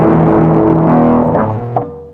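An electric guitar played live through a Web Audio API distortion effect rings out as a loud, sustained, buzzy chord that shifts pitch briefly before decaying.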